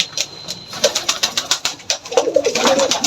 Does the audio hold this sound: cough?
no